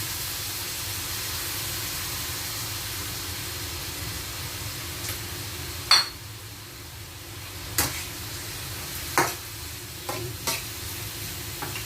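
Bihon noodles being sautéed with soy sauce in a pan give a steady, close sizzle and hiss. A few sharp scrapes and clicks of stirring punctuate the frying.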